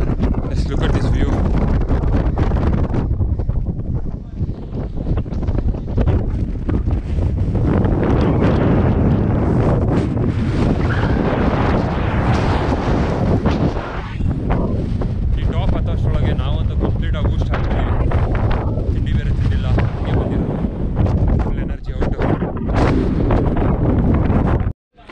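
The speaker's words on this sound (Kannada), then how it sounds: "ಅಷ್ಟು ವಿಂಡ್ ಬ್ಲಾಸ್ಟ್ ಇದೆ ಇಲ್ಲಿ" Strong wind blasts across the top of Shivagange hill, a loud, continuous roaring buffet against the microphone that surges and dips for about twenty-five seconds.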